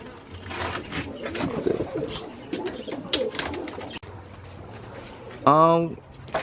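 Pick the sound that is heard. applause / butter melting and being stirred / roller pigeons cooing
roller pigeons cooing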